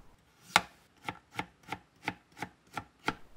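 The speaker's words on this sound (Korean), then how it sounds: "감자를 깨끗이 씻어서 껍질을 벗긴 뒤 얇게 채 썰어주세요" Peeled potatoes being cut into thin julienne strips with a knife on a cutting board, eight crisp, evenly spaced chops in a steady rhythm, close and clear with no talking.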